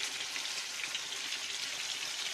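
Banana frying in a pan for a quick fruit madeleine dessert gives a soft, even sizzle that holds steady and fairly faint for a couple of seconds, with no voices.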